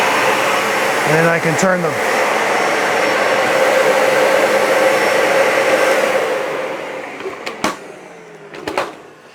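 A Dyson Ball Animal 3 upright vacuum cleaner runs with a loud steady whooshing roar and a brief rising whine as it spins up, then winds down near the end as someone talks and clicks follow.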